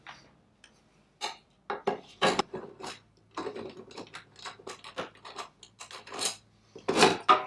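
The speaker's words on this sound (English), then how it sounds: "to remove this one, we just need to remove this Phillips screw underneath here." A Phillips screw is backed out from beneath a Harley headlight retaining ring, heard as close, irregular clicks, scrapes and ratcheting taps in short bursts, with small metallic handling sounds.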